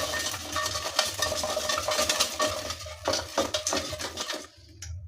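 Partly cooked food rattles and tumbles as a cooking basket is shaken, a dense run of clattering scrapes for several seconds that stops abruptly near the end, no voices.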